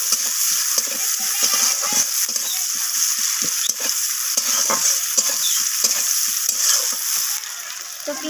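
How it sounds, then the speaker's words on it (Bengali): Chopped onions fry in a pan of hot oil, a loud, continuous sizzle broken by stirring scrapes throughout, close up and with no voices. "তো পেঁয়াজগুলোকে আমি হালকা লালচে করে ভেজে নেব।"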